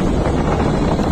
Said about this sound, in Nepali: क्या फ्रेस हावा आइरहन्छ यहाँ त